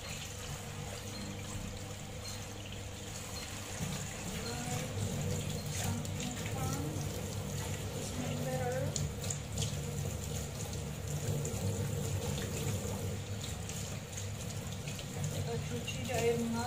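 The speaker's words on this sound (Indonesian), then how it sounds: "Cuci di air mengalir, sudah juga kita rendam" Food is rinsed under a running kitchen tap, a steady close stream of water splashing into a sink the whole way through, with a person talking faintly over it.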